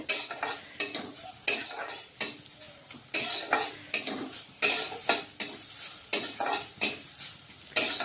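Black sesame seeds dry-roast in a pan under steady stirring, with rhythmic scraping strokes roughly every half second over a faint crackle, close and without voices.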